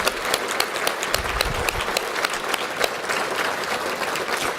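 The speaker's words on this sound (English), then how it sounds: "I'd like to give you all a great round of applause." A crowd at a civic gathering in Coeur d'Alene, Idaho, breaks into sustained applause, a thick, even roar of many clapping hands that holds steady from start to finish.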